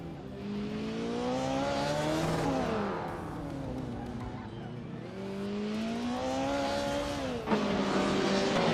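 Retro DTM touring cars racing in a video game, engines revving up and down through gear changes with rising and falling whine, fairly close and continuous, ending with a sharp shift.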